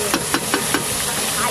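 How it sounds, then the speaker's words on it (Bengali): Potatoes frying in hot oil until reddish, a constant loud sizzle with a few soft stirring scrapes in a quick regular pulse. "আলু একদম লাল লাল করে ভেজে নিয়েছি, এবার তুলে নেবো।"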